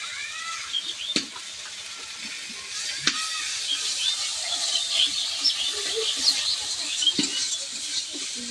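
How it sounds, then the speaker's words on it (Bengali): Oil sizzling and crackling in a pan as chili powder is added during home cooking, a steady faint sizzle broken by a few sharp clicks of a utensil against the pan. "লঙ্কার গুঁড়ো দিয়ে দিচ্ছি।"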